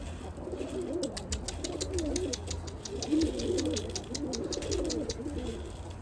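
A Dolapçı pigeon coos from a coop roof in repeated soft, rolling phrases at moderate distance, with faint steady background noise and brief ticking sounds.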